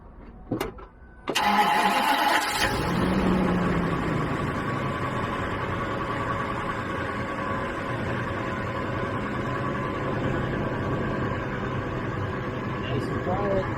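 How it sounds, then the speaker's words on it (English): A van with a new exhaust manifold cold-starts with a brief cranking burst, then settles into a steady, fairly loud idle heard up close; speech is likely under the engine. "We're going to fire it up here and just see how this manifold sounds on a cold start."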